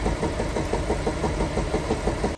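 Audi A7 with an EA837 engine misfiring on one cylinder and damaged by a broken valve, running rough with a steady rhythmic knocking thud over a low idle rumble, close and continuous.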